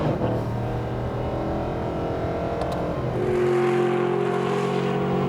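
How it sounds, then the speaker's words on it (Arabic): A deep modified Brabus Mercedes SLS AMG V8 engine roars loudly, holding a steady rev before the pitch shifts up into a strained, rising drone. "اسمع ال V8 يا الحبيب"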